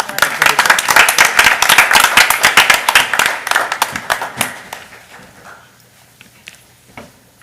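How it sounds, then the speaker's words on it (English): Audience applause at a school board of education meeting, a dense wash of many hands clapping close and loud, then thinning and fading out over the final seconds as a voice speaks. "We'll give them a big round of applause."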